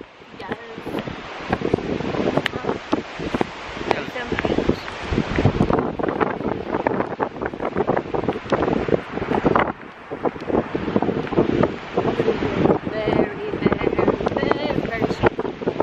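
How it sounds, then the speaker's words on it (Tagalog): Strong beach wind buffets the microphone in a steady, loud roar with gusty surges, while a voice speaks briefly under the rush. "it's gonna be windy"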